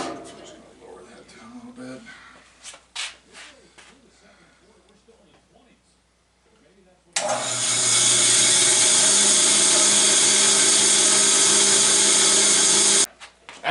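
An upgraded bandsaw fitted with a riser block starts up after some quiet handling noises, then runs with a loud, steady motor whine and blade roar for about six seconds before abruptly stopping. Someone talks briefly early on.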